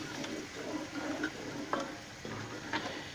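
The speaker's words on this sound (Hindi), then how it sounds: "इसको हम अच्छी तरह मिक्स कर लेंगे तड़के के साथ" Soaked whole desi black lentils are mixed into a hot tadka in a pot, a soft continuous scraping stir over a low sizzle with a few small knocks of the spoon.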